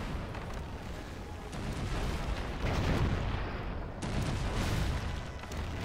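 Ship cannons firing in the strategy game Anno 1404 during a naval battle, heavy rumbling booms and blasts that swell and overlap into a dense, continuous barrage.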